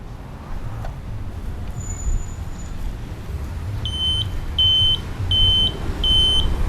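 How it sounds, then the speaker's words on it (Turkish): A Segway Ninebot F2 Pro electric scooter's anti-theft alarm sounds repeated high, steady beeps in an even on-off rhythm over a constant low rumble of traffic and wind. "Bu şekilde bir alarm çalıyor."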